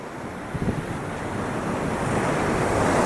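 Sea waves break and wash continuously on Chennai beach, a steady, loud surf roar with wind buffeting the microphone and no voices.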